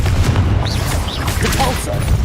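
A Confringo blasting spell bursts in Hogwarts Legacy during hard-mode combat, a booming detonation set in a dense, continuous wash of battle noise with whooshing spell effects, loud and close throughout.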